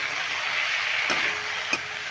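Cauliflower pieces sautéing with spices in a pan give a steady close hiss, with two brief scrapes of a spoon stirring partway through.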